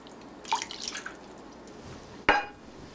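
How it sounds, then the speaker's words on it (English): A brief splash of water poured into a pot, then quiet, followed by a single sharp clink or drip near the end. "I add 1 cup of water."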